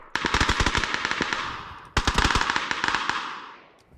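Rapid automatic gunfire from the video game PUBG rattles in two loud, close bursts of fast shots, each trailing off, with no talk over them.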